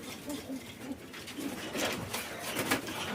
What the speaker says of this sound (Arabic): دي زغاليل اهي